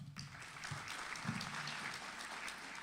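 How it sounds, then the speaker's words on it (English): An audience at a college degree celebration ceremony gives a round of applause, a dense, even wash of clapping heard from a middle distance, steady for nearly three seconds with no talk over it. "Let's give them a round of applause."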